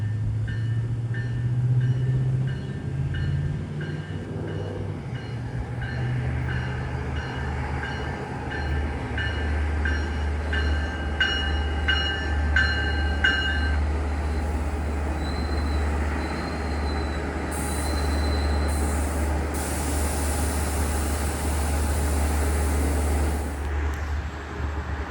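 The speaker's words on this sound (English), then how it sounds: "train to Babylon, is now arriving on platform A." A commuter train pulls into the platform at Sayville station on the line to Babylon, a loud steady rumble of wheels and rail noise filling the scene, with rhythmic clatter early on and high brake squeals near the end.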